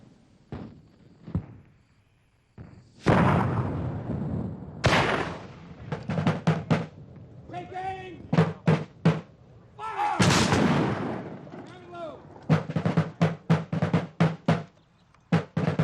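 Fireworks shot off at a fort for a grand illumination celebration: a run of sharp booms and crackling bursts, some loud and close, others fainter, spaced irregularly with brief quiet gaps and no talking.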